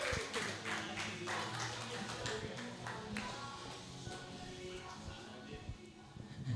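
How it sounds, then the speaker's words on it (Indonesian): An audience claps for a man introduced on stage at a comedy event, dense, fairly steady applause that gradually thins out, with a voice speaking over it. "Tepuk tangan untuk Eki."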